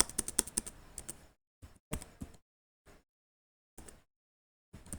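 Typing on a computer keyboard comes through as close bursts of quick key clicks, separated by short silent pauses, with no talk.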